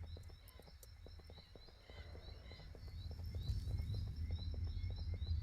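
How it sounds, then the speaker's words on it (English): Crickets chirp steadily in the background ambience of a game level, a faint continuous high trill with soft animal calls and light patter. "So you'll hear the crickets in the background with the animals."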